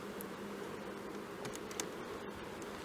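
A soft, steady hum of many honeybees buzzing together close by on hive frames during a hive inspection, with faint clicks and rustles mixed in.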